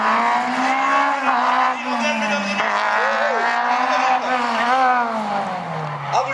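A Martini MK79 race car is driven hard on a slalom course, its engine holding a loud, steady high drone that rises and falls slightly through gear changes and turns, with a commentator talking over it.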